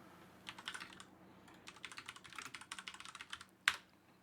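Quick, light keystrokes on a computer keyboard come in two bursts of close, soft typing, followed by one sharper, louder key press near the end, in a quiet room.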